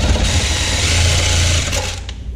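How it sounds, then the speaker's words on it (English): Mini DeWalt handheld reciprocating saw cutting rubber off a part, a loud, close, rapid buzzing rattle that runs steadily for about two seconds before easing off. "Mini DeWalt handheld Sawzall."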